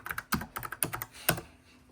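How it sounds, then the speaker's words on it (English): Clacky keys on a computer keyboard struck in a quick, uneven burst of typing, close and crisp in a quiet apartment, with a few louder clacks standing out. "So I actually do like the clackiness of the keyboard"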